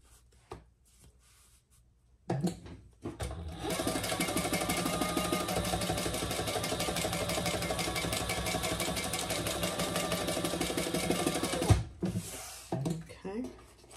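Sewing machine running a seam at the pattern's seam allowance on a sling bag, a steady close whir lasting several seconds with short handling noises before and after.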